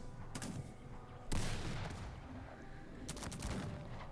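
Units volley-fire over a mountain in the Cossacks 3 strategy game, with three sharp crackling musket-like volleys ringing out at a moderate distance, each trailing off briefly, over a quiet battlefield hum.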